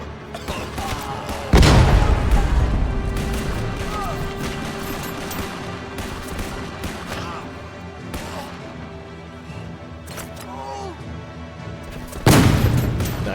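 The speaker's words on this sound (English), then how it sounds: "Nice explosion." Heavy booming blasts and gunfire in the World War city-builder strategy game Kaiserpunk, with two loud impacts near the start and end over a dense rumbling battle bed and scattered sharp cracks, talk faintly beneath.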